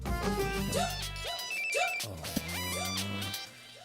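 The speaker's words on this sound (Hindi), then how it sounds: "अरे उबले अंडे का फोन है यार।" Incoming call ringtone on a phone in a Hindi drama film scene, a loud melodic electronic tune with a busy cascading pattern, playing continuously for several seconds with no talk over it.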